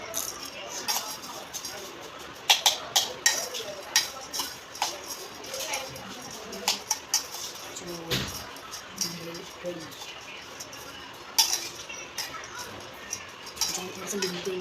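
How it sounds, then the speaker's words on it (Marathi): Bhel being mixed in a bowl, irregular clinks and scrapes of a spoon against the bowl scattered through the stretch, with a voice talking over it. "आता मिक्स करा"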